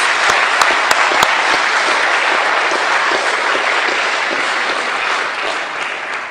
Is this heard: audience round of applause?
yes